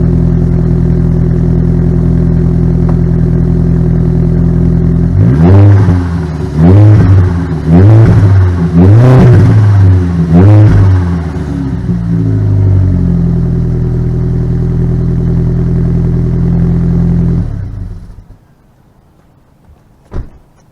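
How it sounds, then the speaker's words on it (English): A cold car engine with straight pipes idles loudly, then revs lightly in five short blips in quick succession, settles, and shuts off near the end. "The motor's cold, but we'll give it a light rev."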